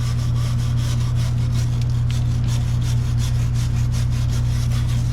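Stiff dry brush scrubbing hard, dried grime out of the seams of a 1984 Bertone X1/9 rear compartment, a steady close rasping scrub that never lets up, with a constant low hum running beneath it.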